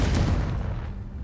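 A loud, dense blasting spell burst from the Hogwarts Legacy video game, a short booming crackle that fills the whole moment with heavy low rumble.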